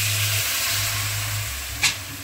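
Raw mango mixed with salt and turmeric sizzles in a pan as a little water is added, giving a steady close hiss with one brief louder burst near the end and no talking.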